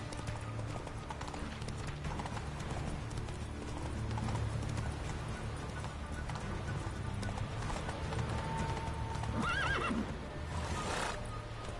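In The Witcher 3, a horse's hooves clip-clop at a gallop, with a sharp neigh rising near the end over faint game background sound.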